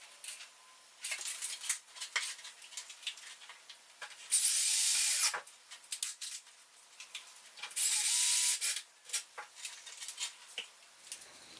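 A power drill drives plastic self-drilling wall anchors with spiral threads into a wall, with two loud sustained whirring bursts amid scattered clicks and handling knocks, close by and without talk.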